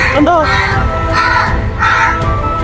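Crows caw repeatedly in loud, harsh bursts, close by, over a busy background with some voices.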